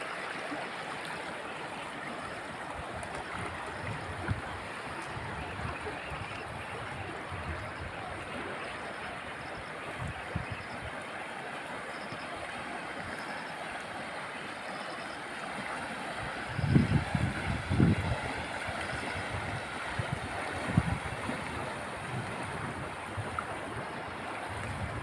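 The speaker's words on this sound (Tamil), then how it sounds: "எந்த அளவுக்கு எந்த வேகத்தில் வந்து தண்ணீரினுடைய அளவு அதிகமாக இருக்குது பாருங்கள்." Floodwater from Cyclone Fengal rushes past in a village, a broad, steady roar of moving water with wind buffeting the microphone, continuous and fairly loud, with a few louder splashing bursts midway.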